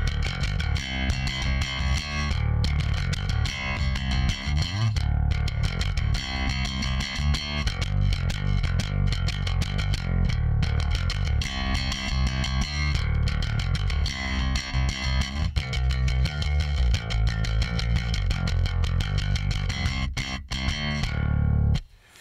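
A slapped electric bass played through a limiter pedal plays a busy, punchy line with sharp popping attacks, evenly compressed and steady throughout, loud and alone until it cuts off.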